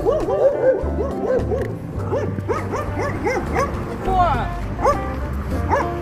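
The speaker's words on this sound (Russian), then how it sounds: "Чую, что оттявкалась." A French bulldog yaps and whines repeatedly in short arching bursts on a night walk through city streets in Krasnodar, close and fairly loud, with a person talking intermittently alongside.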